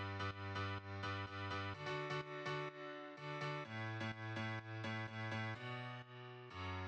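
A second piano layer in a dance track, punchy rhythmic chord hits in a syncopated pattern, changing harmony every few beats, loud with no talking.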